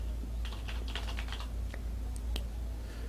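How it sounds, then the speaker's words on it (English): Quick keystrokes on a computer keyboard as a caption is typed, a short cluster of light clicks close up over a low steady hum. "and type in simply Productions."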